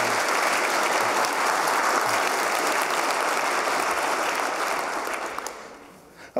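An audience at a Qt World Summit conference keynote applauds in a dense, steady wash of clapping that holds for several seconds before tapering off abruptly.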